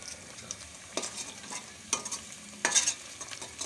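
Hot oil sizzles and crackles as chicken tikka karahi is stirred in the pan, with a few sharper scraping stirs standing out over the steady frying hiss.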